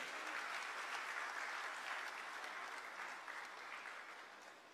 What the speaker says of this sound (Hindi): उन सभी के सम्मान में एक बार जोरदार तालियां बजाए